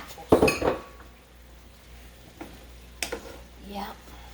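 Apples go into a cooking pot for a simmering turnip-and-apple dish, making a loud clattering clink of pot and utensil followed by a few quieter knocks and light scraping, with a voice speaking partway through.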